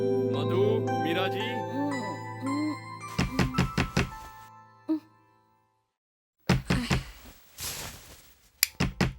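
Knocking on a door in a Hindi film scene: several sharp knocks follow soft background music, then a pause, then another run of firm knocks at close range.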